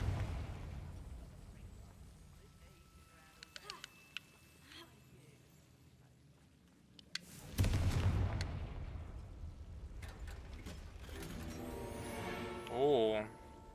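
Confringo fire-blast spell in Hogwarts Legacy: a sudden loud explosive burst hits midway and rumbles on, over quieter game ambience with a few earlier faint pops and a voice shouting.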